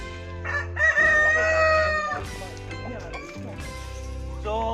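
A native chicken rooster crows loudly and close by, followed by clucking and other fowl calls around a breeding cage, with someone talking intermittently over them.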